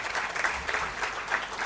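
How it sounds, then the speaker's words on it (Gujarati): Steady applause from an audience at a Gujarati talk honouring two people's nature-friendly footwear work: a dense, even wash of many hands clapping that holds at moderate loudness throughout. "એવા સ્નેહલબેન અને સંજયભાઈને જોરદાર તાળીથી આપણે વધારીએ."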